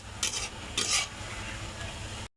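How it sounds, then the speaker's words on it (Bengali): Okra stir-fried dry in a pan, with two loud scraping strokes of a spatula over a steady low sizzle, close and alone. "আমার ঢ্যাঁড়সটা কষানো হয়ে গেছে।"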